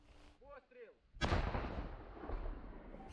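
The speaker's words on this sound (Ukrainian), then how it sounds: "В бік окупантів Олександр вправно відправляє снаряд за снарядом" Self-propelled gun fitted with a Rapira anti-tank cannon firing a single loud blast, preceded by a brief voice and followed by a long rumbling decay.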